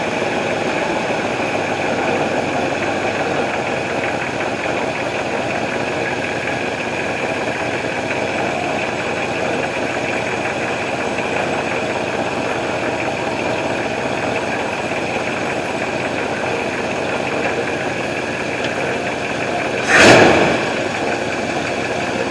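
A Ford 302 V8 in a Mustang, fitted with a 500 CFM carburetor, idles steadily and evenly throughout, a constant mid-level drone with one brief sharp click or knock near the end.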